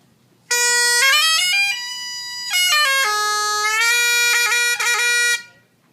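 A bagpipe chanter's double cane reed, played alone outside the bag, gives a loud, buzzy, nasal sequence of sustained pitches with sliding steps and a few quick choppy notes over about five seconds.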